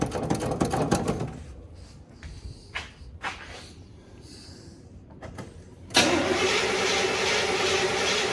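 A 1979 Chevy Scottsdale pickup's engine cranks in short bursts with pauses, then catches and fires into a steady running roar, close by with no talking.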